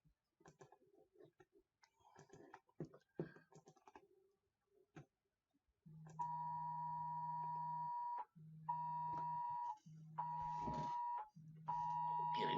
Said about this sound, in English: Getting a message on my phone, even though the volume was off.